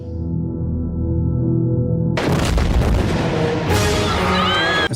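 Loud blast at the detonation of a live trigger launching a dummy over 70 metres on a game show, erupting after a steady tonal hum and followed by roaring noise and crowd reaction.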